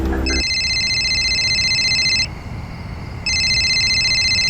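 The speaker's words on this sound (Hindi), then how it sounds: "हाँ तेरा फोन बज रहा है" A mobile phone rings at night with a loud, steady electronic ringtone. It starts after a short thump, drops out for about a second in the middle, then resumes, and no one speaks over it.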